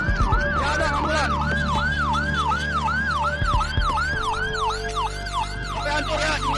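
An ambulance siren cycles in rapid, regular wails close by on a street in Bogor, loud over a dense rumble of traffic and engine noise.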